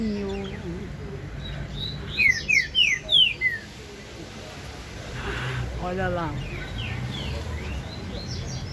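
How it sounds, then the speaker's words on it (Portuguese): Several bright, quick calls of a green-winged saltator ring out briefly in an outdoor setting, with a voice speaking over a steady background rumble. "É o Trinca-Ferro o nome daquele passarinho ali."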